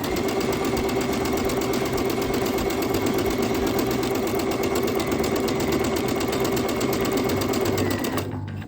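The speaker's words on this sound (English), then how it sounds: "We're going to sew down one side and then we're going to turn them and sew down the other." Sewing machine stitching quilt pieces together with the presser foot down, a loud steady mechanical whir running continuously and then stopping abruptly near the end.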